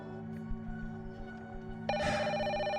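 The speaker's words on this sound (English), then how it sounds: "The old phone on the desk suddenly rang." An old desk telephone suddenly bursts into a loud, bright electronic ring that continues steadily over a low background hum, with no voices present.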